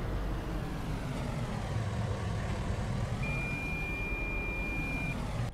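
Reversing beeps from a vehicle in the Farming Simulator 19 video game: a steady high warning tone sounds over a constant low engine drone through the second half.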